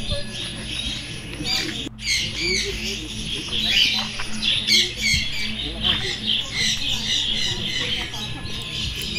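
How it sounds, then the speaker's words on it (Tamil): Sun conures and small conures squawk continuously in an aviary cage at a park, a dense chorus of harsh, shrill calls up close, with one louder bang near the start. "இப்போ இந்த கேஜில் நம்ம பார்த்துட்ருக்கிறது சன் கனு அண்ட் ஸ்மால் கனு"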